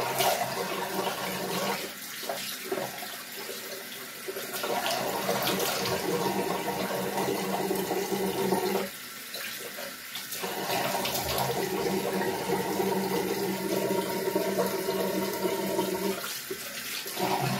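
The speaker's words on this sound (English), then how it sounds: "Then you have to wash with cold water." Cold tap water runs steadily for rinsing a freshly shaved head, a continuous splashing rush with brief dips where hands seem to break the stream.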